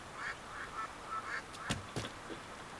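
Ducks honking and quacking around the Snapper Canal stage in Splatoon 2, a few soft calls early on, then two sharper, louder quacks near the end, with no voices over them.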